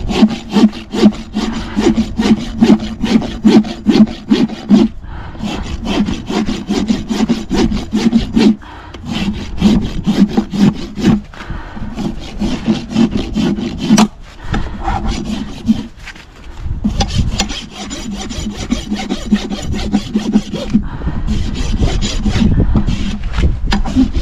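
A rasp files a horse's hooves to finish the bevel in a steady run of loud, close, rhythmic rough scraping strokes, broken by a few short pauses.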